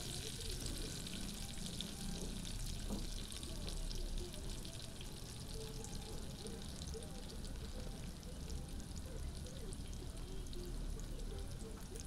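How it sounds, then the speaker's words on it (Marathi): Garlic sautés in hot oil in a home kitchen, giving a steady, soft sizzle and crackle that holds evenly throughout at close range with no talking over it. "लसूण छान लाल होऊस तर परतून घ्यायचा."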